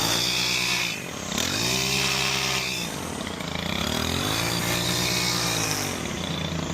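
A gas string trimmer edges grass along a driveway, its engine buzzing loud and steady throughout, dipping briefly and rising again as the cut varies, with no voices.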